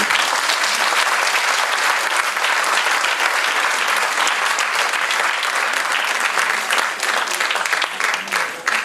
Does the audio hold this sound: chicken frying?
no